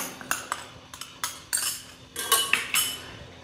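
A spoon scrapes and clinks against a metal pot while rava ladoo mixture with cardamom powder is stirred, sharp irregular knocks about every half second, close and with no talk.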